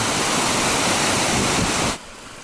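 A mountain stream flows along the Timberline Trail, a loud dense broadband rush of water, close and steady, then dropping off sharply near the end.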